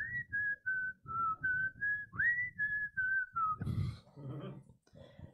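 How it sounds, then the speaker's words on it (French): A person whistles a sustained, wavering melody for several seconds, followed by a brief burst of broadband noise and some shuffling. "J'essaye de siffler."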